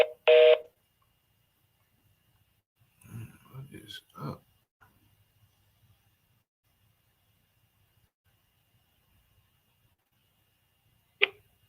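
Telephone dialing tones from a call placed through a sales calling app: a short loud burst of tones at the start, a few soft knocks and murmurs in the middle, then one more brief tone near the end, with long quiet gaps.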